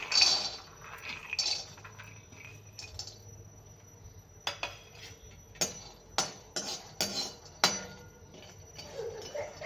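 Peanuts dry-roast in a pan, starting with a soft hiss and then breaking into sharp, close clinks and rattles as they are tossed and stirred in quick, irregular bursts.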